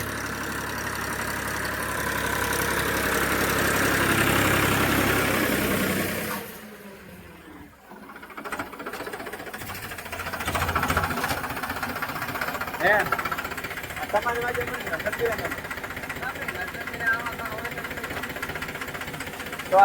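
A tractor engine runs in a farm field with a steady mid-to-low rumble and knocking that dips briefly, then continues under people talking.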